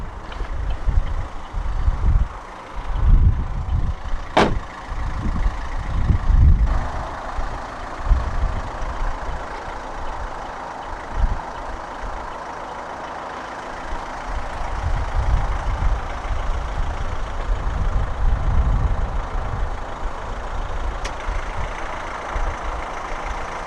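A 2014 Vauxhall Mokka 1.7 CDTi 16v 130 diesel 4X4 idles with a steady low rumble, joined by a few sharp clicks and knocks from switches or doors close by, with no talking.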